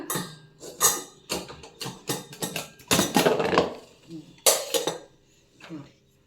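Metal clanks and clatters as a pressure cooker lid is worked open in a kitchen after cooking spicy pongal, with irregular close knocks and scrapes and a louder burst of rattling midway.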